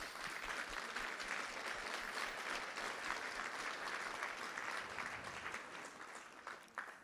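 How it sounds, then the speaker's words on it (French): Sustained audience applause filling a hall, an ovation for volunteer participants at a climate pact presentation in Grand Annecy, dense steady clapping that holds for the whole stretch and eases slightly near the end. "Levez-vous, parce que j'aimerais bien qu'on vous fasse une ovation"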